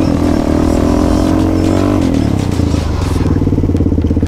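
A supermotard motorcycle engine revs loud and close as the rider brakes hard into stoppies, its harsh buzzing note dipping and rising with a few clattering knocks along the way.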